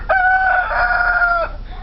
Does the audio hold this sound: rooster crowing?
yes